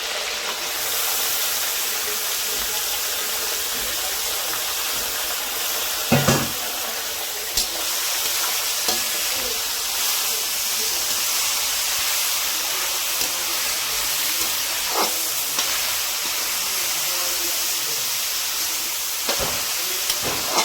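Chopped vegetables frying in a hot pan for paneer fried rice give off a steady, close sizzle and hiss with no break, broken by a few brief clinks and scrapes.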